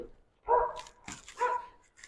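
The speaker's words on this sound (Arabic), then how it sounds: "معلش بقى على صوت الكلاب" Dogs bark in a few quick, sharp outbursts close by, with short pauses between the barks and some whimpering yips mixed in.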